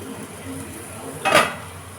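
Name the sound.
lid removed from pan of frying ivy gourd and potato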